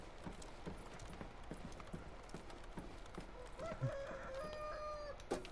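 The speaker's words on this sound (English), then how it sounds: "There's that zombie rooster!" Rooster crowing in the video game Days Gone, a mid-level crow rising near the end over steady clip-clop hoofbeats and game ambience.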